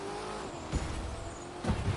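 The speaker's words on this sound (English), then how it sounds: "Car's slipping and sliding too much." Corvette in The Crew 2 racing game sliding and skidding, steady engine drone with two short tire-scrub bursts, close and fairly loud, no talk.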